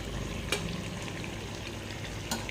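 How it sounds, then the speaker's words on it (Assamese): Small fish sizzle steadily in hot oil in a wok for a fish charchari, a dense continuous crackle with two brief sharper spits standing out, close and alone without talk. "মাছৰ তেল চৌহা উলি আছে"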